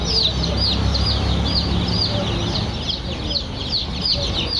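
Many Sonali super hybrid chicken chicks cheep continuously in a dense, high-pitched chorus, close and fairly loud, with a low background rumble.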